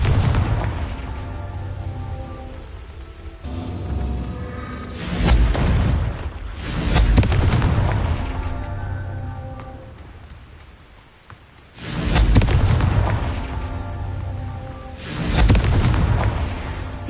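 Repeated Confringo fire-spell explosions from the video game Hogwarts Legacy, four heavy booming blasts at irregular intervals, each with a crackling, rumbling tail, loud and close with no talk.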